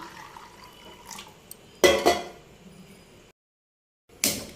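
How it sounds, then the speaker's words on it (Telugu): Drinking water is poured from a vessel into a cooking pot in a home kitchen for boiling chickpeas, giving two short close splashing bursts, a pause, then another brief pour. "కొంచెం మంచి నీళ్ళు పోసుకొని"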